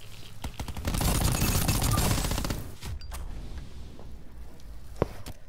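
Bursts of automatic gunfire from a weapon in Call of Duty Black Ops 4 Team Deathmatch. A dense, loud fusillade runs for about two seconds, followed by quieter scattered shots and game ambience.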